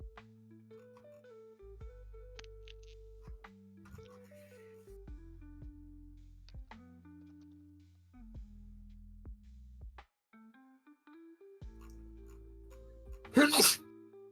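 A single sharp sneeze near the end, following a stretch of quiet tonal background music at a tabletop roleplaying game session.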